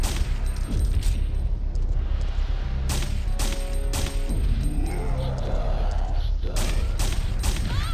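Rocket launcher fire and explosions in the Resident Evil 3 video game: several heavy, booming blasts over a dense, continuous wash of game noise and rumble.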